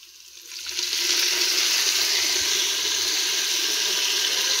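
Mint leaves dropped into a hot pan for chicken biryani, a broad hissing sizzle that swells within the first second and then holds steady and loud, close by with no talking.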